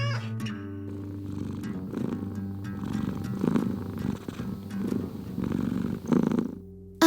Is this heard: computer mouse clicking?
no